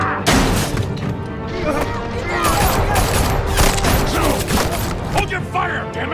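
Gunfire in Batman: The Telltale Series: a loud, dense, continuous volley of shots and crashing impacts, with voices mixed in.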